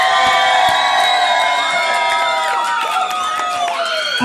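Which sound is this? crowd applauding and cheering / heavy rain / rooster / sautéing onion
crowd applauding and cheering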